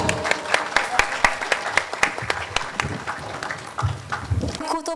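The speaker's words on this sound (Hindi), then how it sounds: "पंचाल जी के लिए जोरदार तालियां" An audience at a music program applauds a sponsor called to the stage, a burst of sharp hand claps that fades unevenly over several seconds, with a voice briefly audible near the end.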